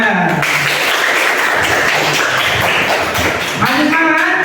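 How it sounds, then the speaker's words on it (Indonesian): An audience claps hands during an Islamic religious education class session, a dense, steady wash of applause filling the room under loud voices. "Kita ingat tepuk tangan."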